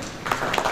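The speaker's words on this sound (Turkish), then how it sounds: "Sayın Mehmet Elçi alkışlarınızla sahnemize almak istiyorum." Audience applause at a Turkish textile exporters' association award ceremony, a short burst of clapping from a crowd at moderate level, with a couple of slightly louder claps rising out of the steady patter.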